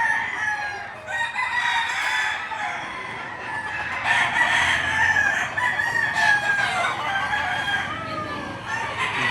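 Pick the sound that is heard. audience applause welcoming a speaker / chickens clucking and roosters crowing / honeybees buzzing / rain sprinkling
chickens clucking and roosters crowing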